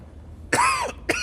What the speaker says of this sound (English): Excuse me, clearing my throat.